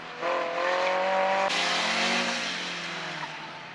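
A car on an autocross course corners hard, engine revving with a clear tonal whine as tires squeal, then shifts and the note drops while the squeal fades; loud and close with no talk.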